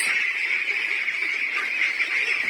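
Steady, dense chorus of ducks crowding a Philippine duck farm, honking and quacking continuously and close at hand with no pauses, no voices over it.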